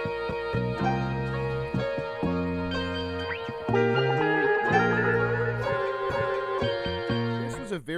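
A jazzy old music sample plays with bright, layered harmonic tones over a plucked, bass-like rhythmic pattern, moderately loud and with no voices.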